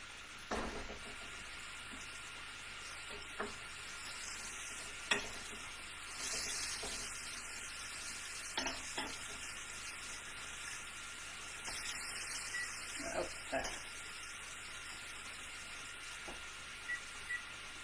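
Salmon burger patties fry in a pan with a faint, steady hiss and sizzle, broken now and then by soft clicks and scrapes of spatulas, with no talking.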